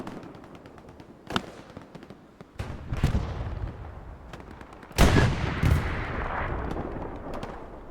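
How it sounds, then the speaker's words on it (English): Explosions and gunfire from a bombing run in a team match of a World War II shooter game on the Omaha Beach map, with sharp blasts near 1.3, 3 and 5 seconds over rumbling battle noise, loud and close. "this is going to be Omen's bombing run here"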